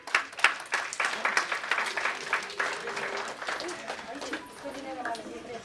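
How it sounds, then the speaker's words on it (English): Audience at a CA Day celebration honouring senior chartered accountants applauding in a hall, a dense burst of clapping that swells then gradually thins out, with a voice speaking over it. "A round of applause, please."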